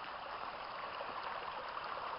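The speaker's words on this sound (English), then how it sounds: "Crossing Templeton Creek." Templeton Creek flows in a steady, close rushing wash of water with no pauses and no voices.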